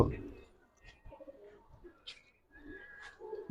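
Boil pigeons held in a hand give soft, low cooing in short bursts, close by, with people talking over much of it.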